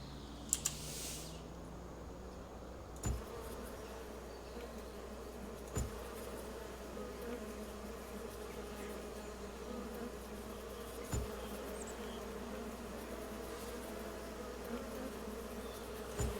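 Steady, faint insect buzzing from bees swarming around beehives on a farm in Farming Simulator 25, with a few soft clicks scattered through it.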